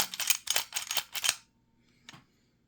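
Budget handgun being cleared and dry fired: a quick run of close, sharp metallic clicks and rattles from working the slide, then a short pause and a single crisp click of the trigger.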